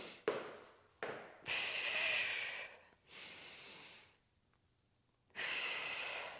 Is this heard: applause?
no